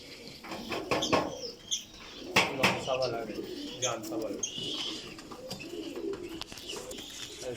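Pigeons in a breeder's collection of mixed breeds, including high flyers, coo in repeated soft throaty phrases, with occasional wing flutters. A voice talks over them intermittently.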